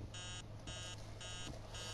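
Alarm clock in the horror game Emily Wants to Play 2 ringing in repeated bursts of rapid electronic beeping, about four pulses with short gaps, steady and moderately loud over a low hum.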